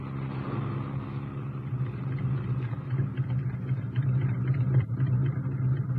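A car engine rumbles steadily and low while the vehicle drives toward a set of large gates, a continuous close drone with no other sounds standing out.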